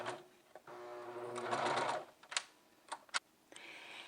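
A serger with a beading foot stitches braid trim, giving a close, steady mechanical whir that runs for a couple of seconds, followed by a few short clicks and taps.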